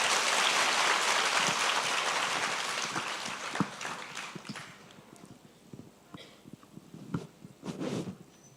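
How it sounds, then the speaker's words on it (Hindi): An audience applauds Captain Harsh at a UPSC celebration event, a dense burst of clapping that starts loud and gradually thins into scattered, fading claps. "इनके लिए भी जोरदार तालियां हो जाए भाई"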